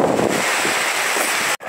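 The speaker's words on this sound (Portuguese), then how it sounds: "a ventania aqui tá forte" Strong wind buffets the microphone in a continuous rough rush with a watery, surging quality, cutting out abruptly near the end.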